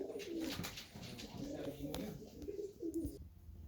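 Dutch tumbler pigeons coo in soft, repeated low calls close by, with faint background noise and no speech over them.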